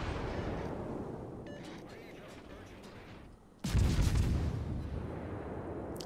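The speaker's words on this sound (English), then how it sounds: "one more torpedo hit and cause flooding" Torpedo hits on a warship in a naval battle video game land as a loud, sudden broadband explosion partway through, followed by sustained rumbling roar, over a continuous background of battle noise and distant gunfire.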